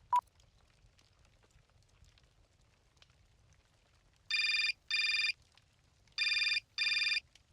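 An in-game telephone rings in Syberia Remastered after a brief click: two pairs of bright electronic trilling bursts, clear and evenly spaced against a quiet low hum.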